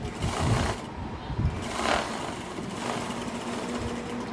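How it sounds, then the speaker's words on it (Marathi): A sewing machine runs a straight seam along saree lace, a steady mechanical whirring with some louder thumps early on, continuous and close. "सरळ शिलाई मारून घ्यायची आहे"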